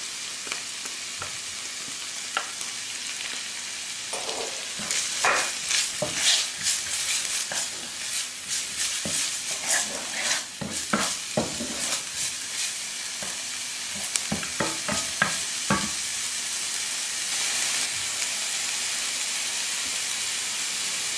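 Bacon and onion sizzling in a hot pan, with steady frying hiss throughout and a spatula repeatedly stirring and scraping, busiest in the middle stretch.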